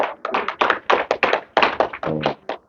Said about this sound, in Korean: 굉장히 박수 한번 주세요.